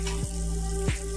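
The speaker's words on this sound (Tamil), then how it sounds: "வெங்காயம் நல்லா வதங்கணும்." Chopped onions sautéing in hot oil for a Tamil country chicken curry, a soft continuous sizzle with a couple of brief stirring scrapes.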